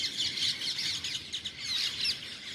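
Several birds chirp and tweet continuously at moderate distance, a busy overlapping chatter of bright calls with a soft background hiss and no voices.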